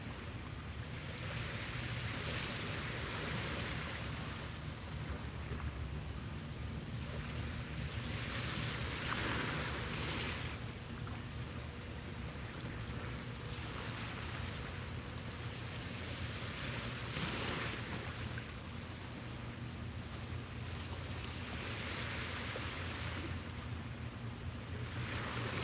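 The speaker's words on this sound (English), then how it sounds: "this gorgeous soundtrack of waves" Ocean waves on a beach at sunrise surge and wash ashore in slow, regular swells every few seconds, a soft distant roar with some wind, no talking.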